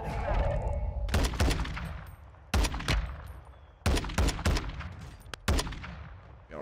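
Gunfire in the video game Warzone 2, with the TAQ-V rifle mentioned: loud, close bursts of rapid automatic fire in several separate volleys with short pauses between them, a player's voice briefly audible.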